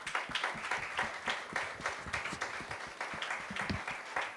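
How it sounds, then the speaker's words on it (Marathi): A church congregation at a Sunday Mother's Day service clapping, with rapid dense claps going on throughout, fairly loud and unbroken. "त्या पुढे येत असताना आपण टाळ्या वाजूयात."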